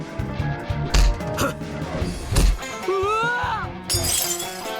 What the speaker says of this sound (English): Beer bottles flew through the air, their shattering highlighted by the sounds of fists meeting flesh.